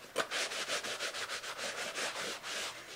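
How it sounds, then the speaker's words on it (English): A dry rag wiping excess antiquing paint off a painting, a rapid series of close, rhythmic scrubbing rubs, each stroke a short raspy swish, with no talk. "take your dry towel, a rag, and then wipe off a lot of the"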